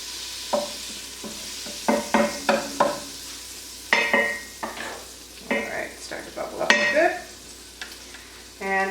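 Butter and coconut oil melt in a pot and give off a soft sizzle, with a spoon clinking and scraping in uneven bursts against the pot as it is stirred.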